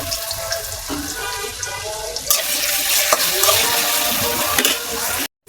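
Onions and green chilies hit hot oil and fry with a loud, steady, close sizzle. It swells partway through, then cuts off abruptly near the end.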